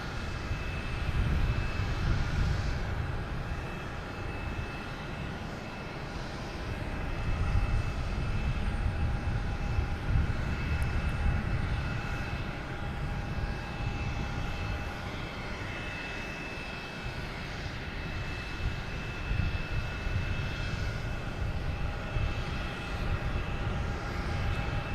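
American Airlines Boeing 737 MAX 8 arriving at Boston Logan at night, a continuous jet engine rumble with a thin whine, swelling and easing slightly over the stretch, heard alone without voices.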